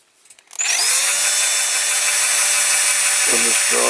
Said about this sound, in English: on this driver here with a small drill bit.